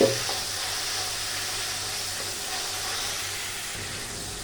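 Spice paste with red chilli powder and a splash of water sizzling and frying steadily in oil in a pan for chhena potol, a continuous close hiss with no talking.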